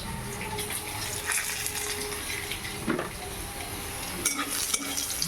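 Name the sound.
frying lentil dumplings (bori) in oil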